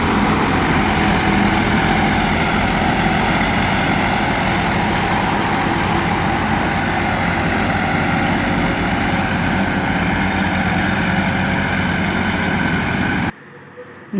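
Heavy vehicle engine straining hard to tow a paddy harvester stuck in a deep muddy rice field, a loud steady droning roar that runs continuously and cuts off abruptly near the end.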